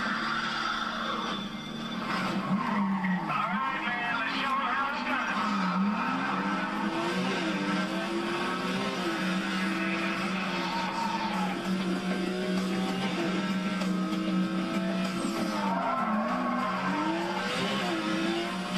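Race cars compete in a Need for Speed Carbon circuit race in Kempton. Engines drone and whine continuously, with repeated rising and falling tire squeals as the cars skid through corners, and no one speaks.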